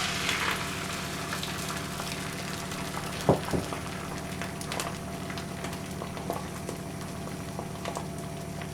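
An egg omelette cooking in an oiled pan that still holds a little residue, giving a steady, moderate sizzle and bubbling with one brief clatter partway through and no talk.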